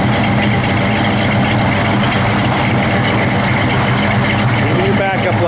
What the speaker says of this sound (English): it's a nasty sounding big block